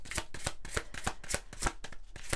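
Oracle cards shuffled by hand in a steady run of crisp riffling bursts, close and fairly loud, with no talk over them.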